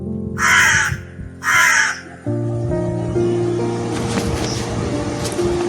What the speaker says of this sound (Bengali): কাক দুঃখে চিৎকার করে ওঠে।